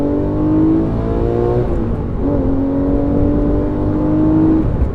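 A rare Porsche engine pulls steadily as the car accelerates up to speed merging onto a freeway, a loud continuous drone with rising harmonic tones, heard from inside the car with no talking.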